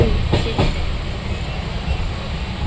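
A night passenger train bound for Puri rolls along the rails with a constant loud rumble and a few rhythmic wheel clacks, heard from inside the carriage.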